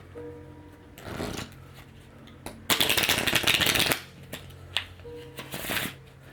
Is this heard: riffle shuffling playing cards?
yes